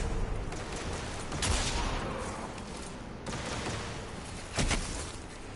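Hawkmoon hand cannon in a shooter video game fires several heavy, thudding shots at uneven intervals, each a loud burst standing out from constant busy game noise.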